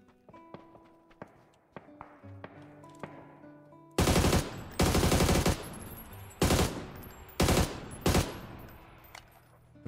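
Gunfire in the battle-royale shooter PUBG: several loud, close bursts of automatic fire in quick succession, following a stretch of quieter footsteps and small clicks.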